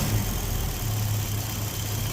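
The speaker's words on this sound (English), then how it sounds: "Motor sounds okay." A fuel-injected EFI engine idles steadily while warming up from a cold start, producing an even, close, low rumbling drone with no change in pace.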